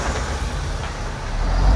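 A heavy truck being fitted with a hydraulic pump and a fourth axle rumbles close by, its low engine drone steady and broadband, swelling slightly louder toward the end with no voices over it.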